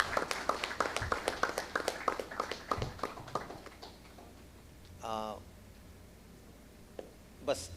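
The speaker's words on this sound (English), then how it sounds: "Give him a big hand, actually, big clap." An audience at a sports panel event claps in quick, fairly faint applause that fades out after about four seconds, then a brief voice and a few isolated taps.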